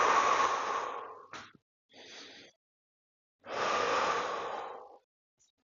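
Slow, deep breaths during a seated stretching pose: two long, close exhalations, each several seconds, separated by a short quick inhale and a quiet pause.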